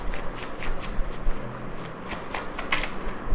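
Handwritten tarot cards are shuffled by hand in a quick series of close, crisp riffling flutters, repeated through the whole short stretch with no speech.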